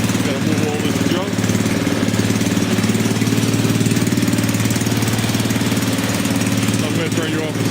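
A snow blower engine runs close by, with a loud, steady, knocking rumble at an even pace throughout, as if idling.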